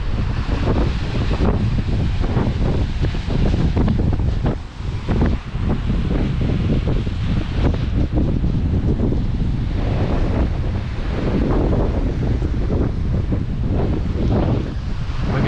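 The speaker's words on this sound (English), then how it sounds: "Nice amount of water coming down." Steady rushing water from Ebor Falls roars throughout, heavily mixed with loud wind buffeting the microphone; no one speaks.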